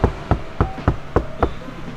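Six knocks on the front door of a car fitted with CTK sound-deadening material, evenly spaced and close by, each a dull, solid thud with no voices.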